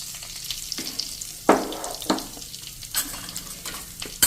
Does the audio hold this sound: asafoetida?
yes